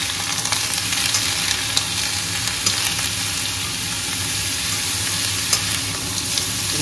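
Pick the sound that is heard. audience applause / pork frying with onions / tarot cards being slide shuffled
pork frying with onions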